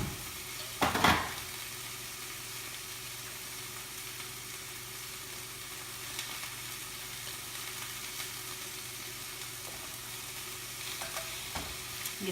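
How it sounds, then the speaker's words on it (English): Six tablespoons of butter melting in a pot on a stovetop, giving a faint, steady low sizzle with a brief clatter near the start and a few soft knocks, no talking. "in this pot we're going to put our butter in, which is going to be 6 tablespoons"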